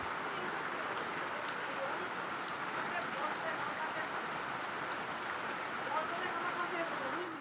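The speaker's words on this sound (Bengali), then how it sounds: "দেখুন দেখতে দেখতে কি জোরে বৃষ্টি চলে এসেছে।" Heavy rain pours outside a home during a wet season, making a steady, even hiss that is fairly soft and continues unbroken throughout.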